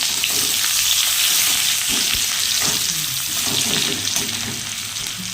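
Onion added to hot oil with cardamom and cinnamon while cooking prawn masala, a loud continuous sizzle with stirring scrapes close by.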